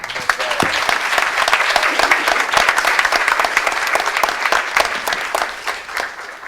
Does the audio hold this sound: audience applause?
yes